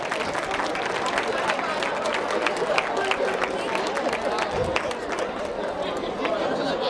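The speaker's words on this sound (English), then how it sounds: "Give them a round of applause." Students at a school speech event give a round of applause, mixed with loud crowd chatter and cheering voices, the clapping running steadily throughout under busy talk.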